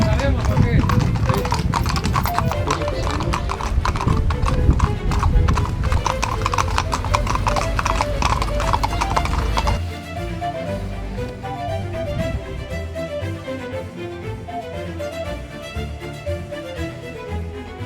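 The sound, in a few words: horse hooves clip-clopping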